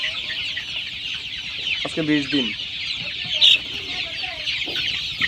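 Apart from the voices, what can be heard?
tiger breed chicken chicks peeping, 20 days old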